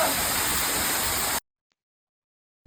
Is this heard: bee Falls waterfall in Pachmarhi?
yes